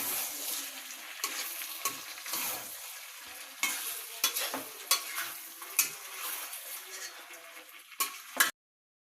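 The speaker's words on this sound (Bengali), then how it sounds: "আচারটা কড়াইয়ের মধ্যে রেখে 2-3 দিন জাল দিতে হবে।" Olive pickle cooking in a wok, with repeated stirring scrapes and clatters against the pan over a faint sizzle, growing sharper and louder toward the end, with no talk.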